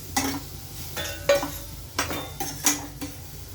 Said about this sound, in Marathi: आता त्या कढईत मी थोडंसा रा रताळं तुपामती भाजून घेते